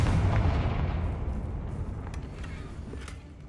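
A Confringo explosion spell goes off in Hogwarts Legacy on PS5: a loud, close, broadband boom with a deep rumble that slowly fades over a few seconds, with no talking.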